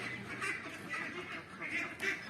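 Young Pekin ducks, one to two months old on a farm in the Philippines, give repeated nasal quacks in a close flock, fairly loud and steady with overlapping calls.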